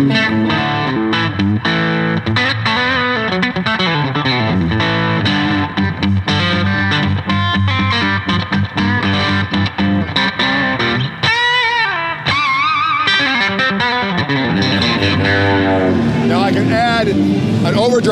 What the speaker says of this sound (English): Lead channel sounds like this.